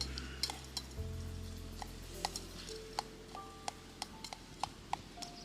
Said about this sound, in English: gonna stir that around a little bit